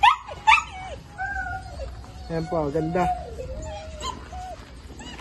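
A healthy one-year-eight-month-old bully dog at a pets and livestock market gives short whimpers and yips, with a person speaking close by and over them.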